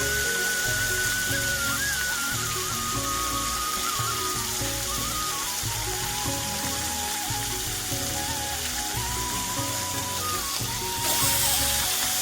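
Katla fish marinated with turmeric, salt and lemon juice frying in hot oil in a kadai, giving a steady, close sizzle and crackle that fills the whole stretch without talk.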